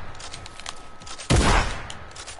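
A single loud, close gunshot from a shotgun fired in a multiplayer video game bursts out midway, with a booming low end that fades over the next moment over faint background game noise.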